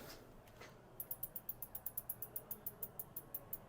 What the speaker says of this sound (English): I'm gonna crank that quick release down